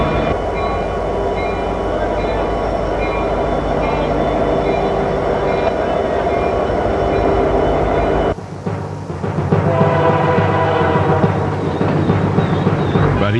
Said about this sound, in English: hauling a massive freight train over the Rockies requires 3 locomotives